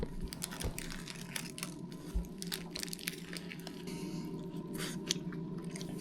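Soft, close chewing of a Subway sandwich, steady moist mastication with light crunches and wrapper crinkles, quiet with no talking.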